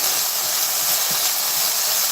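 Food sizzles steadily while frying in a pan, a loud, even hiss held close up without a break, with no talk over it.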